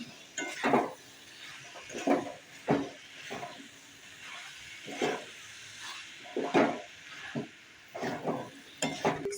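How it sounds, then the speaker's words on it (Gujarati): A spoon gently stirs batata poha, Gujarati-style flattened rice with potatoes, in a pan, making soft scraping strokes about every second against a faint background hiss. "હવે તેને હળવા હાથે હલાવીએ."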